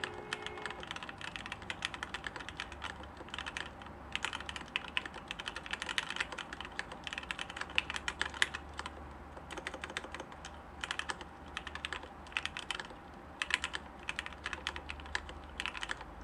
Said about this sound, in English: I have to actually look down to see where I'm typing.